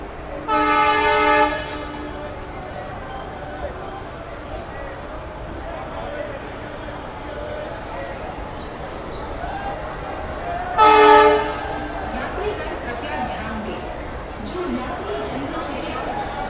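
The Kalindi Express arriving at Kanpur, with two loud horn blasts, one at the start and another about ten seconds later, over a continuous low rumble of the moving train.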